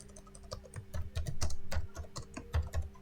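Keys on a computer keyboard are tapped while entering text into a spreadsheet, producing irregular quiet clicks close to the microphone with no voices.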